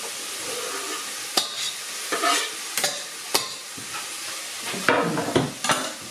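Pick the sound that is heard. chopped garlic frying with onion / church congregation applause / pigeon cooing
chopped garlic frying with onion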